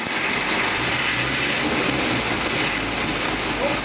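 A 1952 Dodge M37 three-quarter-ton 4x4 Army truck engine, running on gas for the first time in decades after a full-choke start, gives a steady, close, unbroken broadband roar throughout.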